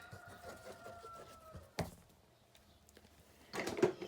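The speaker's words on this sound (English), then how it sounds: "Yeah, the roosters are up." Roosters crow faintly in the distance, with drawn-out calls early on and a later burst of clucking, all quiet under a thin background hum.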